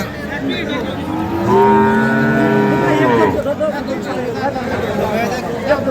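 A cow gives a long, loud moo close by at a cattle market, with people chattering in the background.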